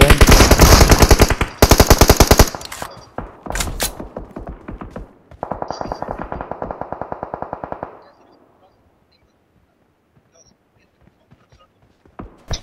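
Bursts of rapid automatic gunfire in the battle royale game PUBG Mobile, loud and close, several sustained strings with short gaps, then a fade to near silence with faint scattered sounds.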